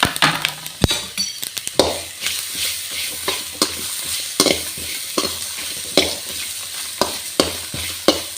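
Chutney ingredients, garlic, onion and greens, stirred and fried in a pan over low flame: steady sizzling with repeated scraping stirs and spoon clinks against the pan, close and continuous, with no talk.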